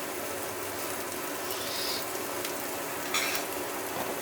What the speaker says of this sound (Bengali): সুন্দরভাবে মিক্স করে দিচ্ছি, একটা নাড়ি দিয়ে নেড়ে